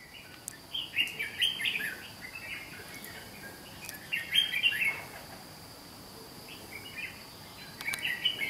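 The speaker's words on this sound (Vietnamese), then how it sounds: "Giọng chim ở khu này khá là to" Red-whiskered bulbuls singing outdoors, bright bursts of chirping phrases repeated every few seconds, moderately distant over a soft bed of insect hum.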